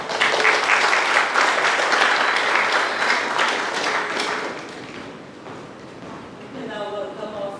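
A theatre audience applauds performers at a spoken-word show in Trinidad and Tobago, loud dense clapping that slowly fades, with voices rising over it near the end.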